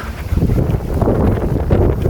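Strong wind gusts along a street in Japan, buffeting the microphone with a loud, rough, continuous roar for the whole stretch.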